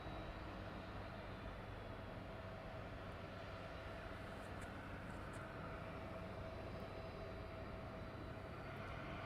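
An aircraft taxiing in at East Midlands Airport at night, a steady, broadband engine roar with a constant low rumble that holds evenly throughout, fairly distant and unbroken, with no voices.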